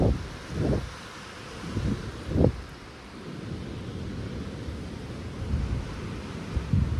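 Gusty wind buffeting the microphone in low rumbling bursts, rising and falling over a continuous outdoor hiss, at Kappatagudda hills in Karnataka.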